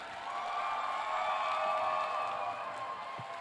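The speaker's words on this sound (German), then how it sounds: "Einen riesengroßen, fetten Applaus für die Band" An audience at an anime concert applauds and cheers for the band, a steady, dense wash of clapping and crowd noise that holds throughout, heard from within the hall.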